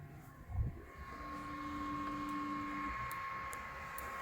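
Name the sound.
3D printer probing each bed screw point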